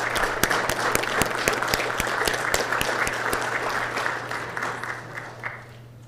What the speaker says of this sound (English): let's give a great round of applause for Government Finance Professionals Week